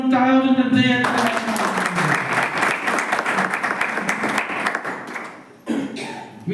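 Audience at a school batch reunion breaks into steady applause after someone speaking, a close, dense clapping that tapers off before a brief pause and a final few claps.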